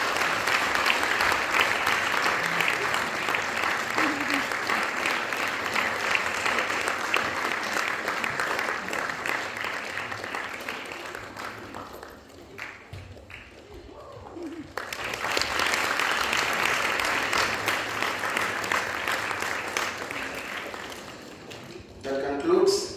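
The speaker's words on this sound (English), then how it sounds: "Big round of applause for her." Audience applause at a student awards ceremony for a Carnatic music school's annual day: sustained clapping for about eleven seconds, a short lull, then a second burst of applause.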